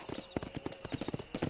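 Horse hooves in the video game Red Dead Redemption beat out a quick, even clip-clop rhythm of gallops, moderately close and fairly quiet.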